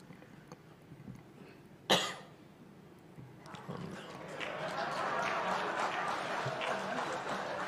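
During a formal speech, a single sharp cough bursts out near the start, followed by a rising wash of crowd noise like applause or murmuring that carries on to the end.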